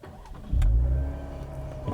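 A 2020 Cadillac CT5-V with a V6 engine cranks and fires up, a brief starter whir followed by a loud, deep rumble that settles into a steady idle, heard close with no talking.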